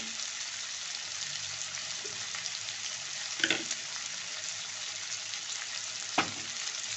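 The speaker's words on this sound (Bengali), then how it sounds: "পেঁয়াজ রসুনগুলো আলুটা একটু ভালো করে সাঁতলিয়ে তারপরে আমি মশলাটা অ্যাড করব।" Onion, garlic and potato sauté in oil in a pan with a soft, steady sizzle, punctuated by two or three brief clinks or scrapes of a spoon, fairly quiet and close, without any speech.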